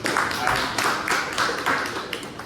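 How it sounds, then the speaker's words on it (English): Applause from a Toastmasters club meeting audience, a dense, steady patter of many hands clapping at moderate distance for a couple of seconds, with faint crowd murmur underneath. "A big round of applause for Toastmaster Ankit."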